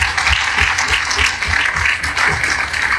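An audience at a conference on a teachers' professional board breaks into loud, dense applause, close and continuous with slight surges, almost no talk over it.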